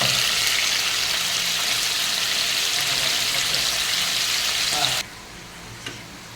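Potatoes frying in hot oil for a jackfruit dish, a loud continuous close sizzle that cuts off abruptly near the end, leaving a quiet room with a faint clink.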